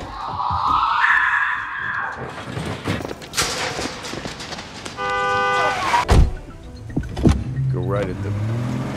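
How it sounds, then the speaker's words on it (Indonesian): Car chase in a film, with engine and tire noise, a horn-like tone and a stretch of bright whirring, mixed with music, sound effects and narration-like speech over the whole scene. "Aksi kejar-kejaran pun terjadi dan menggunakan kemampuan mengemudinya, Danny berusaha menangkap kembali si bocah."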